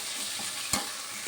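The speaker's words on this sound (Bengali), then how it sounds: "আলু পেঁয়াজটা আমি ভালো করে ভেজে নিয়েছি" Potatoes and onions frying in a pan for ghugni give a steady, close hiss of sizzling oil, with one brief stirring knock partway through and no voices.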